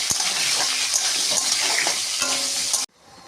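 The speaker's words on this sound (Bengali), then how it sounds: "আলুটা আমি আগে ভেজে নেব।" Loud, dense sizzling of potatoes with a little turmeric frying in hot oil, with a few stirring knocks, then cutting off abruptly to near silence.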